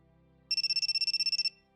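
A cell phone in the visual novel Grisaia sounds a shrill electronic ringtone, a rapid pulsing burst of high tones lasting about a second, loud and isolated against near silence.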